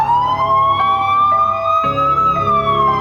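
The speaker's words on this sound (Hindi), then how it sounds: "पुलिस की गाड़ी पास से गुजरी, सायरन की आवाज गूंज उठी" A police car siren wails loudly as the car passes close by, its steady tone sliding slightly up and then down, with no talk over it.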